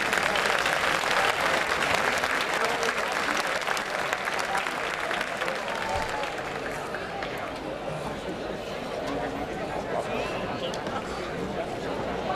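An audience at a folk music performance breaks into strong, dense applause that stays loud and continuous for about twelve seconds, easing slightly toward the end, with some chatter mixed into the clapping.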